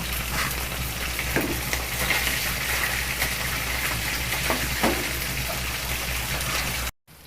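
Onions sizzle in hot oil in a pan, a continuous crackling hiss with a few louder spits, close and steady, before a brief cut at the end.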